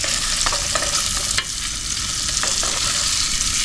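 Paneer fries in a pan at a campsite with a loud, dense, close sizzle that never lets up, a few quick scrapes of stirring cutting through it.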